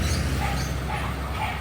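A puppy yips and whimpers during a vaccination visit at a veterinary clinic, giving short high cries over a steady low background hum, close and fairly loud throughout.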